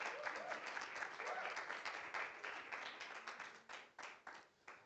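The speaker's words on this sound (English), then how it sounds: "let's welcome him with a round of applause." An event audience in Gauteng gives a round of applause welcoming a panel speaker, a full burst of clapping that starts dense and thins into scattered, fading claps toward the end.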